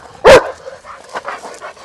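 A Kangal-mix dog gives a single loud, sharp bark nearby, followed by quieter low background murmur.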